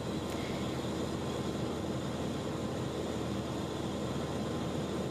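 Steady, continuous drone of a 1976 Cessna Cardinal 177B in flight, a constant broadband roar that holds at one level throughout with no gaps, heard from inside the cabin.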